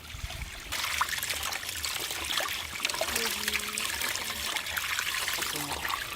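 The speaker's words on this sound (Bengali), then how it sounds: "মাছটা ধুয়ে নিয়ে আসি" Tap water trickles and splashes steadily while cut fish is washed by hand, a close continuous running stream with small clatters, and people talk faintly in the background.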